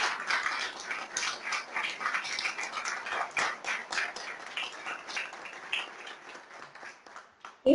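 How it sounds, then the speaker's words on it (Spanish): Audience applause at a memory and identity festival, sustained dense clapping at moderate distance that holds steady for several seconds. "se merece un fuerte aplauso"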